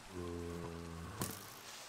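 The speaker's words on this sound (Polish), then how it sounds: "Jak ja nienawidzę burz i deszczu w tej grze" Rain falls during a thunderstorm in the Minecraft video game as a steady, even hiss under low sustained musical tones, with one brief sharp crackle near the end.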